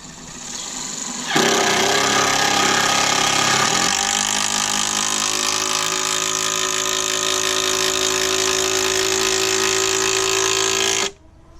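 A power drill drives a screw into wood while building a raised garden bed, whining steadily for about ten seconds, its pitch dropping partway through as it bites in, then cutting off abruptly.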